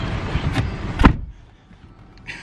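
A car door opens with a couple of sharp mechanical clunks from the latch and handle close by, then the cabin goes quiet with a faint rustle afterward.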